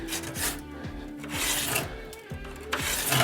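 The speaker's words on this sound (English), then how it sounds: "just going to go around this with a file and see if I can just take some of this off. This is just a small flat needle file." Small flat needle file rasping around a hole in the fiberglass body of a Gardner Douglas 427 Mk4 AC Cobra replica, with steady back-and-forth strokes, close and moderately loud, no talking.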